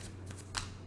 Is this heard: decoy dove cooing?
no